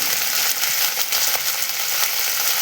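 Cumin seeds and curry leaves frying in hot oil in a pan, giving a steady, close crackling sizzle with small pops throughout and no voices.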